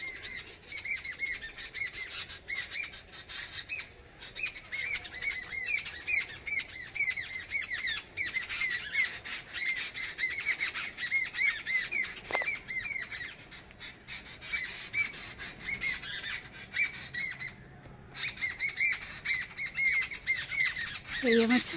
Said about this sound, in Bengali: ছাদে পাখিদের আওয়াজ শোনাবো বলে এসেছি